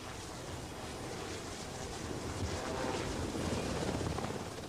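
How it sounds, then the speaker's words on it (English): A Navy radar helicopter from the Falklands War hums as a steady, wide roar, like wind, with no clear rhythm. It sounds distant and faint. "Once the helicopter is airborne,"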